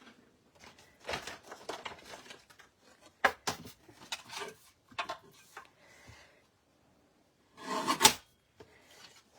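Cardstock is trimmed to size on a paper trimmer, giving short rasping slides and scrapes in uneven bursts, with a louder sweep near the end and quiet gaps between.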